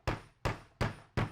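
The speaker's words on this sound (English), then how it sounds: "hammering it into the back" A hammer strikes a chopped wooden floater frame corner four times in a steady, even rhythm, each blow loud, sharp and close.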